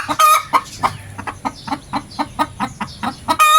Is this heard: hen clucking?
yes